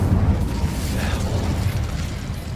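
An Incendio fire spell cast in Hogwarts Legacy, a loud whooshing burst of flame that rumbles heavily and sustains for a couple of seconds before easing slightly.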